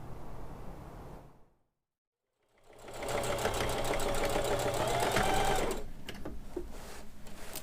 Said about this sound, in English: I hear that sewing machine humming along in there.